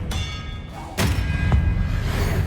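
An Expelliarmus spell cast in Hogwarts Legacy gameplay, a sharp thudding impact with a bright ringing edge over a low ambient rumble, followed by a second smaller hit.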